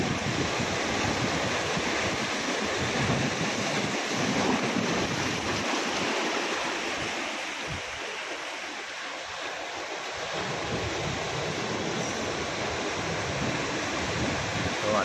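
Sea waves surge against rocks on a rocky shoreline, a constant broad wash of surf that dips briefly in the middle before building again, with no voices.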